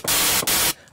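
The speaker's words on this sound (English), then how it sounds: "This time, I'm going to use white noise." A synthesizer's white-noise oscillator blasts a loud, harsh static hiss in two bursts separated by a brief dip, then cuts off to a low residual tail.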